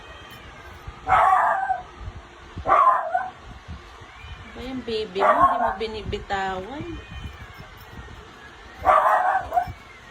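A dog barks in short bursts several times nearby, with people talking in between and over the barking.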